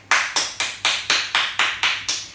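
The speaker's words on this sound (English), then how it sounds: "so quick little claps" Quick hand claps for a home salsa dance lesson, nine sharp even claps in a steady brisk rhythm, close and clear with nothing else heard.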